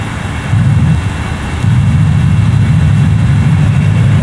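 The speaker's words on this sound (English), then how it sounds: "Reverse thrust set." In a flight simulator, an airliner's engines roar in reverse thrust after landing: a loud, continuous low rumble that steps up in intensity about a second in and holds steady.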